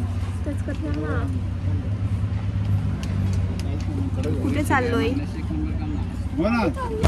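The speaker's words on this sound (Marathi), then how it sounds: "फायनली रिक्षामध्ये बसून चाललेलो आहोत." Riding in an auto rickshaw on a dusty road: a steady, close engine drone with road rumble runs throughout, while people chat over it.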